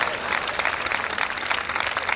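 Audience applause at a live Hindi stand-up comedy show, a short burst of steady clapping from a room of people, moderately loud and continuous.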